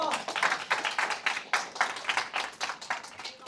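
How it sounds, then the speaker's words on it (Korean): A modest tech conference audience claps together during a retrospective talk, the individual hand claps distinct and fairly close, forming a lively uneven patter that continues throughout. "박수 한번 칠까요?"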